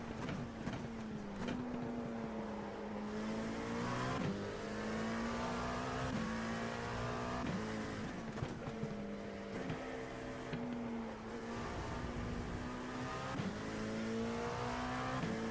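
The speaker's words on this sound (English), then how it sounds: "Faster car coming up quick." A race car engine drones at steady high revs on track with clear gear shifts, rising and falling pitch as a faster car closes in; heard from inside a car, loud and continuous with no talk.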